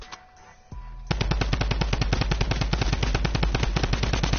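Automatic gunfire in a shooting video game rattles out as one loud, sustained burst of rapid, evenly spaced shots, following a brief quieter stretch at the start.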